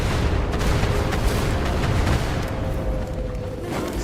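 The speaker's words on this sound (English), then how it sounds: "I called down an airstrike" Airstrike explosions in a video game, a continuous rumbling barrage of deep booms and blasts overlapping into a heavy, loud roar for about four seconds.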